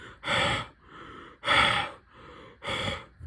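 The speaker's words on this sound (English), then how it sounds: "If we just breathe into it" Three heavy, breathy exhalations blown at close range into an Arduino temperature sensor, each preceded by a softer inhale, in a slow, steady rhythm.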